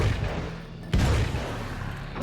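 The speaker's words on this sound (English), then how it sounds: "Frag out! Ba-boom, ba-boom." A frag grenade goes off in a video game as one sudden, heavy blast with a deep rumble that lingers afterward, standing out against steady game noise.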